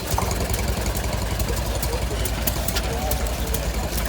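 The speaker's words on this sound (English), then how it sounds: "Another hot bulb engine." A hot bulb engine runs at a tractor show at Newby Hall, a steady low throbbing drone under outdoor crowd noise and nearby talking.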